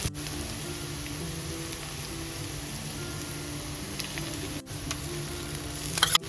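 Ground cashew paste frying in oily spice masala for doi chicken, giving a steady rain-like sizzle at moderate level with a few clicks and a soft utensil knock near the end.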